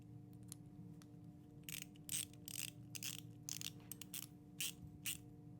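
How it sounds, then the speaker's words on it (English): A small nut is threaded onto a quick-disconnect mounting rail and tightened down, giving a series of quiet, close metallic ratcheting clicks in short irregular bursts against a faint steady hum. "you're going to take this little nut here, and you're going to thread it on. And then you're going to tighten it down."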